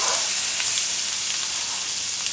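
Onions sizzling in melted butter in a pot, a steady bright hiss and crackle of frying that runs evenly throughout without any voices.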